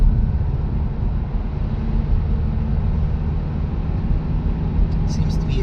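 A Mazdaspeed3 after an engine swap, accelerating in fourth gear, with a steady, loud engine drone and road noise heard from inside the car.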